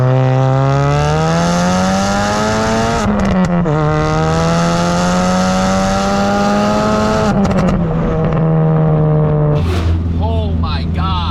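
A big-turbo Ford Focus RS with a 2.3 EcoBoost engine pulling hard through the gears from inside the car, a loud rising engine note that drops at each shift, with turbo whooshes and a voice briefly over it.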